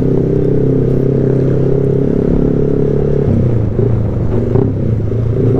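A Yamaha R15 v3 sports motorcycle engine runs loud and close, a steady rumbling drone whose pitch shifts partway through as the revs change.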